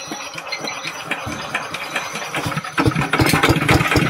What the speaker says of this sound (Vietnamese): Bây giờ em quay cái máy này cho bà con mình nghe tiếng máy